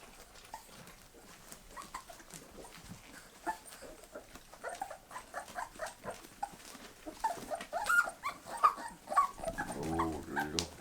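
Bull terrier puppies whimper and yip close by while weaning onto meat, high thin cries building from soft scattered whines to louder, more frequent yelps toward the end.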